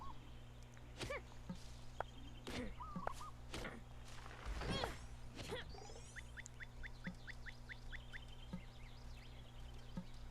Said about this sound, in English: I love the sounds of the birds now in this season.